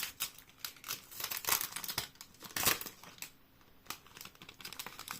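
Packaging from a store purchase crinkles and rustles up close as it is opened, in irregular bursts of crumpling with brief pauses and no voices.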